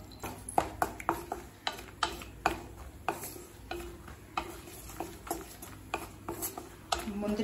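Cashews and almonds being stirred in ghee in a kadai for bread halwa, heard as a steady run of light, clicking scrapes of a spoon against the pan at close range over a soft frying hiss, with no talk.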